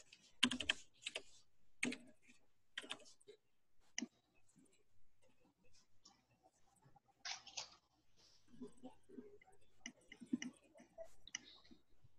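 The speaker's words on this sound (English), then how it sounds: "Let me type some words to her first." Fingers type on a computer keyboard during an online call, producing quiet, irregular bursts of close clicking separated by short pauses.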